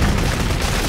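A grenade blast in the shooter game Clive Barker's Jericho produces a loud, dense, sustained explosive roar that fills the whole short moment, with no voices over it.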